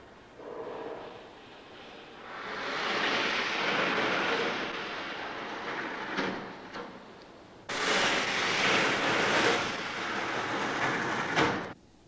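A scale model of a suspended roller coaster dropping: a rushing, rolling roar that swells, dips briefly, then returns in a second loud burst before cutting off.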